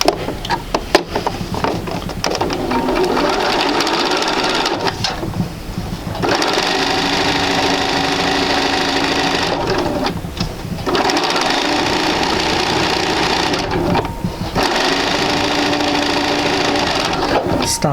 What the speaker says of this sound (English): we'll go ahead and sew all the way down